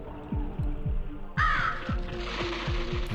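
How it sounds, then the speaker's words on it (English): A loud crow caws once up close in the swamp area of Legend of Dragoon, over rhythmic, heartbeat-like throbbing game music. "Kind of a loud crow there."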